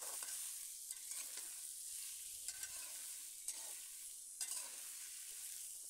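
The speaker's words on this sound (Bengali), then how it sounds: "মূলা আলু এই তেলের মধ্যে কিছুক্ষণ ভেজে নেব, লবণ হলুদ ছাড়া।" Radish and potatoes frying in oil without salt or turmeric for a fish curry, a steady close sizzle broken by several scraping stirs of a spatula, with no talking.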